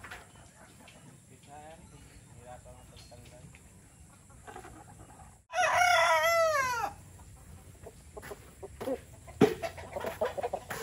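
A farm rooster gives one loud, close squawking outburst while being handled, with people talking before and after it.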